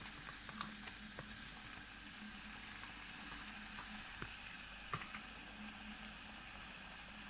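Flour and butter frying together in a pan, a soft, steady sizzle with occasional faint clicks and stirring taps, quiet and continuous with no talking.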